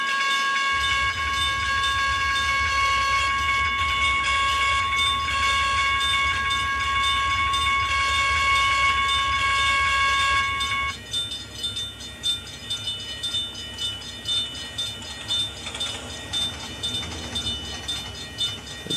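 In the Trainz simulator, a train rolls through a grade crossing whose crossing bell rings steadily as the cars pass. The bell stops partway through, leaving rhythmic clacking of wheels over the rails.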